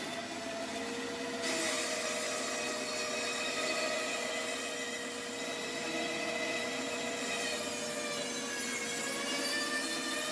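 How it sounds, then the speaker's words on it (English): A bandsaw cuts a large circle from whisky stave wood, giving a steady continuous whine and hiss that stays fairly quiet and even throughout. "I love having a bandsaw."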